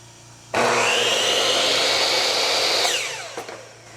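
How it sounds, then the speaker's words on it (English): An air compressor powered by a DJI Power 2000 power station kicks on abruptly and runs as a loud, steady hissing drone, then winds down with a falling pitch near the end, a few clicks following. "I'm gonna go ahead and turn on the compressor here"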